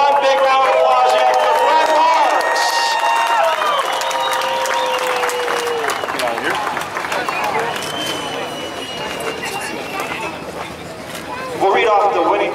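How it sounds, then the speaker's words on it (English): Crowd applause at the Selinsgrove Speedway victory lane, a dense, sustained outdoor clapping with cheering that fades slightly midway and swells again near the end, with an announcer's voice over it. "how about one big round of applause here?"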